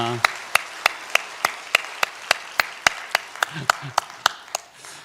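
A church congregation claps together in a steady unison beat, about sixteen sharp, evenly spaced claps over a few seconds, loud and close, with a brief murmur of voices.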